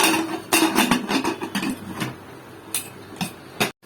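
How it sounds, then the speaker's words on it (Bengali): Metal pot lid set down on a cooking pot while taro stem with ground shrimp is braising, a series of close clinks and clatters of metal against metal, some sharp and ringing, spread over a few seconds with no talk. "এখন আমি ঢাকনাটা দিয়ে দিব"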